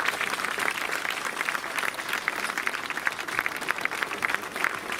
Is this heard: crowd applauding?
yes